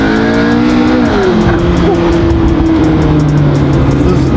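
A McLaren P1 hypercar roars loud and close, its engine note dropping and sliding through gear changes, with a brief tire squeal and a sustained drone that carries on to the end.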